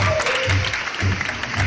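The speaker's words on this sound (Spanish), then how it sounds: "¡Aplausos!" A room of people breaks into steady applause at a burger bar, with dense, even clapping that holds for the whole moment, and low voices murmuring underneath.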